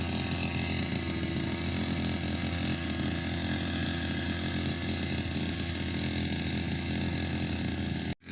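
A grass cutter runs continuously while cutting weeds in a string bean field, its engine buzzing loud and steady up close for several seconds before cutting off abruptly at the end.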